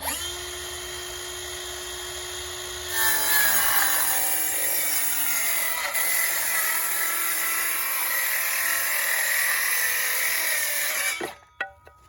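A cordless power saw with a new blade cuts wood for a planter box. Its motor whines steadily, then a loud, bright, continuous cutting roar runs for about eight seconds before stopping abruptly.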